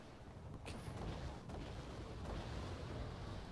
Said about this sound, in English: And artillery comes straight in.